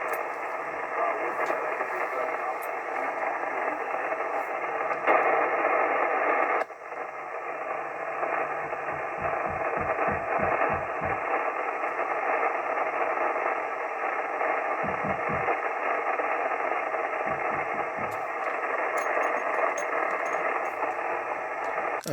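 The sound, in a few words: amateur radio signal fading out (QSB) into static, FT-757GX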